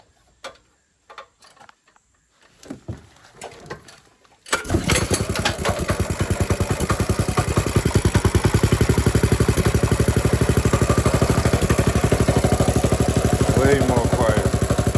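A small engine fitted with VM22 clone carburetors fires up after some quiet handling noises and brief talk, then runs loud and close with a rapid, even putter as the choke is adjusted.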